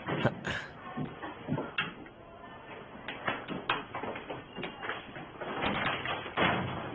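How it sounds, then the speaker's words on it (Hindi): A stuck door being forced open, giving a run of scattered knocks, thuds and rattles at moderate level, with sharp bumps near the start and later. "अगर ये दरवाजा ना खुले तो इसे ऐसे ही खोलते हैं।"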